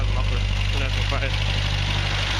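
An old 1965 Datsun engine running after a cold start, a steady close mechanical idle with a low throbbing hum and rough, slightly uneven firing, with voices talking over it.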